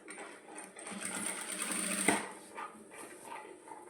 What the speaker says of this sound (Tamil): லைனிங்கில் 2 மடக்கு மடித்து அடிச்சுக்கிறேன்